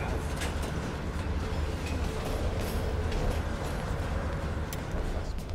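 A train rolls along in the video game Call of Duty Black Ops Cold War, a steady rumbling run with rattling carriage noise and faint metallic clacks, continuous and fairly loud, with no speech.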